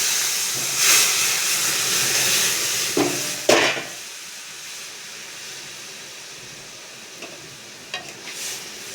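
Lentils poured into a hot pan with ginger set off a steady, hissing sizzle with bursts of steam, punctuated by a few sharp clatters of a spoon or utensil against the pan.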